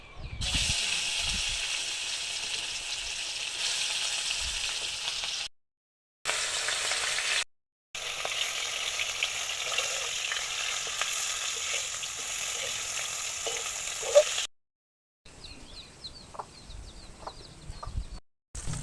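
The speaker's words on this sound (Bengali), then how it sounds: "মাখিয়ে নিয়ে এই যে তেলটা গরম হয়ে গেছে, এবার মাছগুলো ভেজে নেবে।" Steady, hissing sizzle of kamal kath fish frying in hot oil, continuous and close, broken by a few brief silences.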